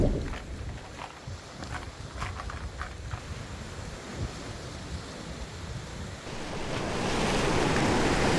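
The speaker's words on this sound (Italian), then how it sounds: "il mare è abbastanza calmo, c'è solo questa onda lunga molto bassa che crea un po' di schiumetta" Calm sea with a low, long swell washing against a rocky shore, a steady broadband wash of surf that builds slightly toward the end, with no voices.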